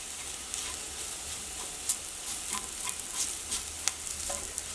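Coriander powder and chili powder fry in oil for a cabbage egg roast, giving a soft, continuous sizzle with light scrapes and stirring taps, fairly quiet and close, with no voices.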